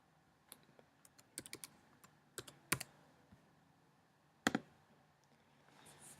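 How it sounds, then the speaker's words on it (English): Keys clack on a computer keyboard while a number is typed, a scattered series of close, crisp clicks and taps in irregular bursts with pauses between. "But what happens if we type in the number 12?"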